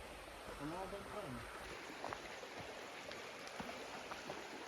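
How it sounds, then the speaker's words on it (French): Steady rushing water of a flowing river fills the background, with a voice speaking briefly near the start over the continuous wash. "Et on entend déjà la rivière, c'est trop bien."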